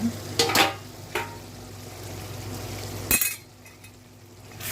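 Metal clinks and scrapes as a spoon stirs tomato onion rice in a metal pot, a few sharp knocks over a steady low hum of cooking.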